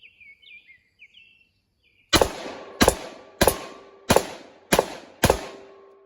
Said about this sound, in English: This is the Diamondback SDR 357 Magnum